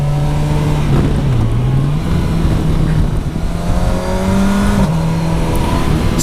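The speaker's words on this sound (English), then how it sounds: "So smooth upshifting on the corner, nothing happens, no clutch, and just a clear upshift like this." A Kawasaki Versys 1000 SE GT engine pulls steadily through a downhill corner, a loud close drone rising in pitch with brief dips where it upshifts without the clutch, under rushing wind noise.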